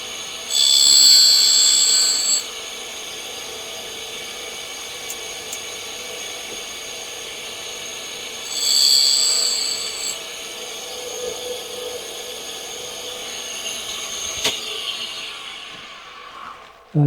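A line boring machine's drill motor runs in a workshop, a steady close whine with two louder bursts of higher grinding tone as it bores, no talk.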